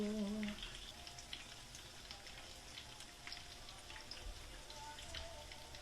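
Rapini fritters frying in a pan, a steady soft crackle and patter of oil throughout, faint and close, with a brief tonal sound at the start.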